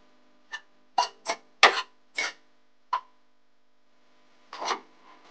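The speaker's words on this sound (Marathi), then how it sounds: "आता मोमोचं जे वरचं आवरण असतं मैद्याचं, ते बनवण्यासाठी आपण अशा प्रकारे त्याला व्यवस्थित लाटून घेतोय." Maida dough is rolled out for veg momo wrappers, giving about seven short, close rubbing and knocking strokes in an irregular rhythm, with quiet gaps between them and no talking.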